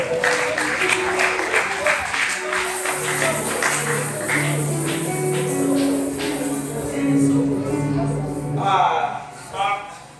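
A church congregation applauds during a worship service. The clapping is sustained and fairly dense and runs under a voice speaking and singing.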